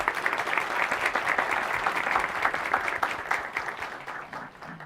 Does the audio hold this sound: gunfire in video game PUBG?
no